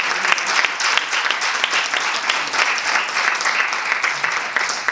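A church congregation claps during a Spanish-language service, a dense, steady round of applause filling the room at even loudness throughout.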